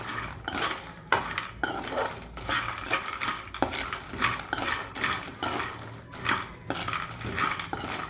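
Peanuts are dry-roasted in a pan and stirred continuously, making a dense rattling scrape with repeated clinks of the spoon against the pan. The sound is close and steady throughout, with no voices.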